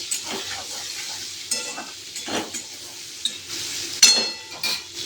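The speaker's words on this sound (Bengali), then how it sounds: "দিয়ে আলু আর কুমড়োটাকে একসাথে ভেজে নেব" Potato and pumpkin pieces frying in oil with a light, steady sizzle, broken by occasional stirring scrapes and a sharp clink of a utensil on the pan, heard close with no voices.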